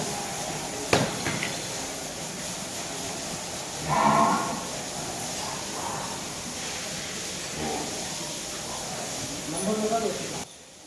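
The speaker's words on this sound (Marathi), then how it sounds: "चांगल्या मापाची म्हैस आहे. झेड ब्लॅक आहे." A Haryana water buffalo at a dairy farm gives a few low moos spread across the stretch, against steady background noise, with someone talking between the calls.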